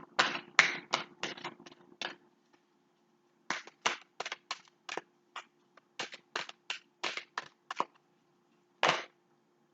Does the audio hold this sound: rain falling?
no